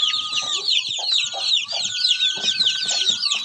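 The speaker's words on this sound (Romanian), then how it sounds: "Uitați cloșca, tot vine pe aici, îi strigă" A broody hen clucks close by near ducklings on a farm, soft rapid clucks repeating over a constant chorus of high peeping chicks.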